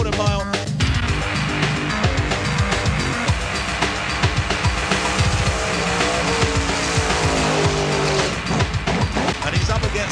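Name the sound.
drag racing cars on quarter mile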